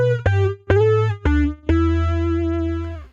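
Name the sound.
guitar pitch-shift effect, octave-down sine voice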